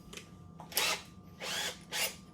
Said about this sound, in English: We'll see if it can do a 1 inch paddle here.